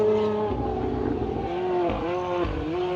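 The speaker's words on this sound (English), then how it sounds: "Yeah, see, you can hear those different dabs of the throttle and brake" Rally 2 car on a gravel rally stage, its engine note rising and dipping with quick dabs of throttle and brake, revs falling and recovering several times, loud and fairly close.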